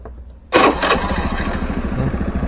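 A carburetted Honda Scoopy scooter engine cranks and fires after a short quiet pause, then settles into a steady, close, loud idle with a busy mechanical chatter.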